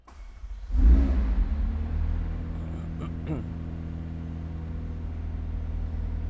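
A McLaren 765 LT's engine cranks and fires with a loud burst, then settles into a deep, steady idle rumble, close by, with a couple of short mechanical chirps partway through.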